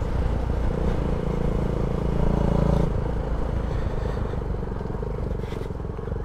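A motorcycle engine runs steadily close by, a loud continuous drone with a brief swell in revs partway through and no talking over it.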